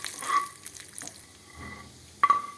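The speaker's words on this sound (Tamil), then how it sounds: "முதல்ல முந்திரி பருப்பை முதல்ல வறுத்து தனியாக போட்டுட்டு" Cashew nuts roasting in a pan for milk kheer give a faint, sparse sizzle with a few light clinks and scrapes of stirring, quiet and close with no talk.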